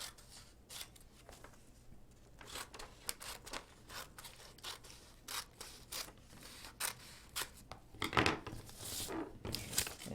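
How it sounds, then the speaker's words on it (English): Scissors snip through paper in a series of sharp, uneven cuts, close up, with occasional crinkling and a louder rustle near the end. "There's our scissors."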